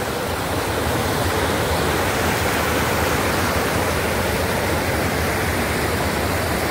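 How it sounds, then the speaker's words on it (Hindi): Strong rushing river water in a forest, a loud, dense, continuous roar with no break, close by and filling the whole clip with no voices. "ये देखिए गाइस कितना जोर का पानी है इधर"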